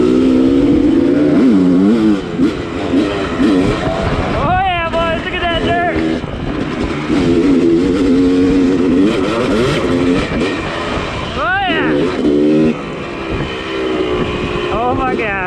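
A new Beta dirt bike engine revs hard on a trail, repeated throttle rises and drops up close with wind buffeting, and a voice talks over it.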